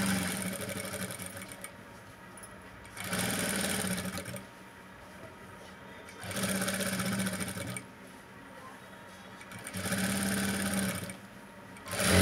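A sewing machine stitches a lined blouse in three separate bursts of fast, buzzing, close-up whirring, each a couple of seconds long, with quieter handling noise between runs.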